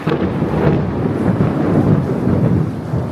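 Deep, rolling thunder rumbles steadily and loudly throughout during a Navratri downpour, with a hiss of rain in the background and no voices.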